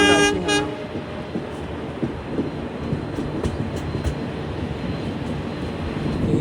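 A moving tourist train with a Vistadome coach, running from New Jalpaiguri toward Hasimara in West Bengal, gives a short horn blast at the start, then a steady close rumble with light rhythmic wheel clicks.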